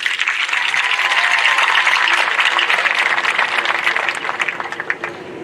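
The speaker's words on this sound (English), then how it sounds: "I just want to give a round of applause to everyone here first." A crowd gives a round of applause for a senior class at an awards gathering: dense, sustained clapping that fills the room loudly for several seconds before tapering slightly at the end.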